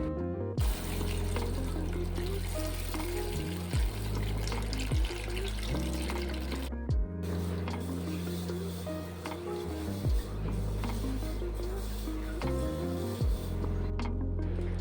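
Moth beans (matki) are rinsed in a bowl of water, with steady running and splashing water that continues throughout under background music.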